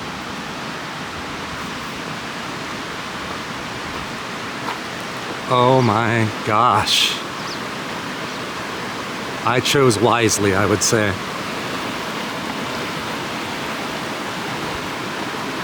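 River water rushes in a steady, broadband wash that fills the whole scene from start to finish, with someone talking over it in two short bursts.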